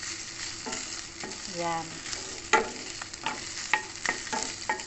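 Onion and garlic stir-fried with pork belly and green beans in a pan with no oil, giving a steady sizzle broken by scraping stirring strokes and sharp clicks of the utensil. One brief word is spoken.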